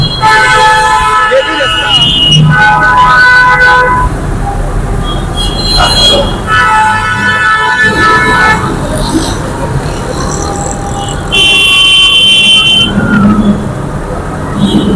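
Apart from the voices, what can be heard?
heavy road traffic with car horns in Islamabad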